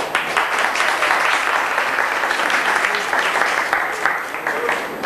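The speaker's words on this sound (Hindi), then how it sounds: "मैं चाहूँगा कि आप तालियों से उनका स्वागत करें।" Sustained audience applause welcoming guests at a BARC Tarapur gathering, dense steady clapping throughout, fairly loud and close with no one speaking over it.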